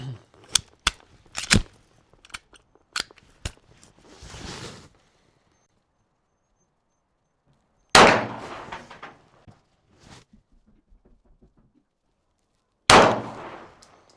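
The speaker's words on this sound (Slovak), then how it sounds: "poďme si vyskúšať, ako to strieľa presne na nejakú väčšiu vzdialenosť" Glock 17 Gen 6 pistol shots fired at a distant target, a quick string of sharp cracks followed after pauses by two louder isolated reports, each with a short decaying tail.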